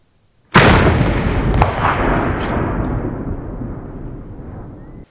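A Remington 870 shotgun fires a single 3-inch Winchester Long Beard magnum turkey load, 1.7 ounces of #5 shot, outdoors: one loud, sharp blast followed by a long rolling echo that fades over several seconds.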